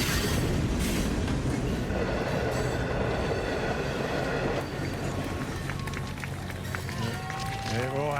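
Long freight train of hundreds of wagons rolling over an Australian railway line, a loud continuous rumble and rattle of wheels that builds to a squeal near the end, with voices talking over it.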